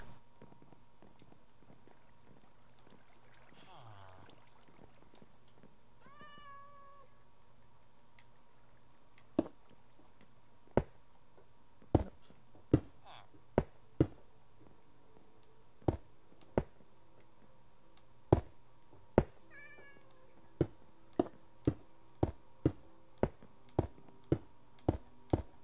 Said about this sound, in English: Oh, kitty cat again.